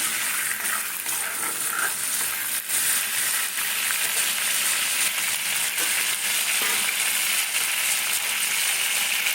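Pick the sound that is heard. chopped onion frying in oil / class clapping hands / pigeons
chopped onion frying in oil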